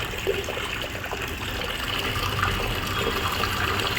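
Water flows steadily into a vessel, a continuous close splashing and gushing rush with no pauses.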